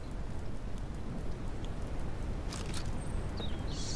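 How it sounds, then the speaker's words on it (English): Steady rain falls in the survival game Mist Survival, a constant dense patter close by with a few faint bird chirps near the end, no voices. "Of course, it's only rain."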